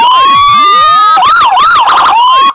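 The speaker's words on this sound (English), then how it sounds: "the super loud siren." A very loud emergency vehicle siren blaring up close, starting with a steady rising wail and then switching to a rapid warbling yelp before cutting off.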